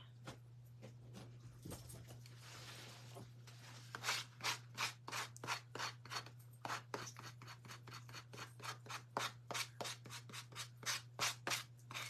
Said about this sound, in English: this paint has some clumps in it. So I'm just trying to get them off.